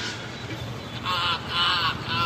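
Three harsh caws in quick succession, nasal and crow-like, rise over steady background noise; a voice imitates a crow.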